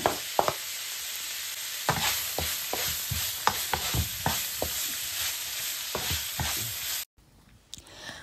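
Garlic and onion frying in a pan for a spaghetti sauce, a loud continuous sizzle broken by repeated scraping stirs of a utensil, close up, with the sizzle dropping away near the end; no talk.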